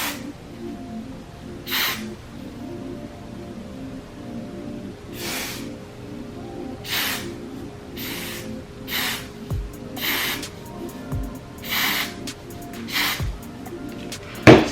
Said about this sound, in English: spray one more layer right on top of it